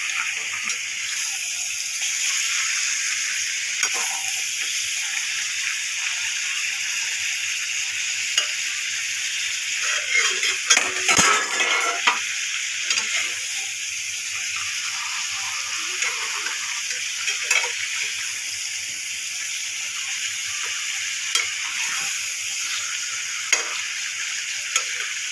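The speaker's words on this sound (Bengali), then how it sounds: "ভালো করে মাংসের সাথে মিশিয়ে নিচ্ছি মশলাগুলো" Chicken pieces coated in spices sizzle loudly in a frying pan for Korean-style spicy chicken while a spoon stirs steadily, with occasional scraping clatters and a louder burst of stirring midway.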